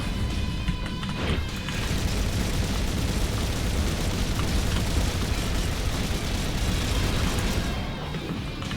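Heavy, continuous explosions from a boss's devastator missiles in the space shooter Overload fill the space, a dense roaring blast that rumbles without pause from start to end.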